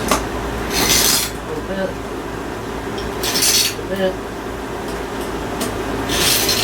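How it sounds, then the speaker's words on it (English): Screws are tightened into a GameMax PC case in a crisscross pattern, heard as three short, close scraping bursts spaced a couple of seconds apart over low background noise, with one brief spoken word. "apply crisscross method of tightening the screws."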